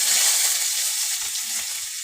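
Chopped onion hits hot oil already tempered with fried chilli and nigella seeds for red lentil dal, giving a steady, close, bright sizzle that holds evenly throughout with no talking.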